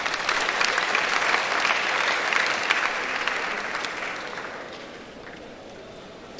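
Fresh students applauding at a university orientation programme, a broad burst of crowd clapping that holds strong for several seconds, then thins and fades out toward the end.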